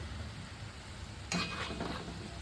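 Onion pakoras (bhaji) frying in hot oil as a second batch goes into the pan, a steady close sizzle and bubbling that swells abruptly partway through and keeps crackling to the end.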